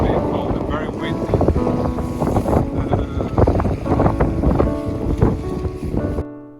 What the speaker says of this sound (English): Extremely cold and very windy.